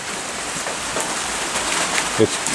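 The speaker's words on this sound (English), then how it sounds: "We got this little bit of rain" Steady rain hisses in a continuous wash of noise, with a faint thump near the end.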